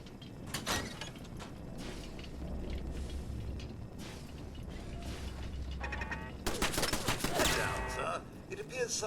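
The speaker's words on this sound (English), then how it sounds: "It appears someone is shooting at us" Gunfire in the video game Fallout 4, sharp broadband cracks and bursts scattered over ongoing game noise, growing denser and louder toward the end, with a low engine-like hum underneath.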